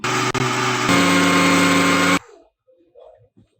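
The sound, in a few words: blender grinding puffed rice into powder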